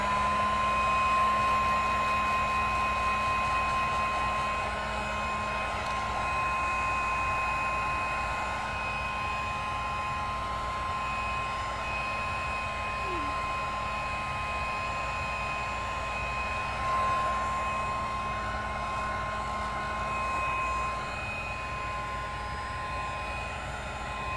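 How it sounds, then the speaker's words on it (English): A small heat gun drying polymer clay pieces gives a steady, even blowing whir with a faint whine, loud and close, running unbroken for the whole span with no talking. "I'm going to hit these with a little heat gun just to make sure."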